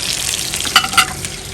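Chicken drumsticks fry in hot oil with a constant close sizzle and a couple of sharper crackling pops, and no voices.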